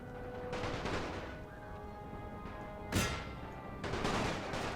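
Submachine gun fire crackles in The Great War video game as a distant, continuous wash of battle noise, with a sharp louder burst near the middle and another swell of firing toward the end.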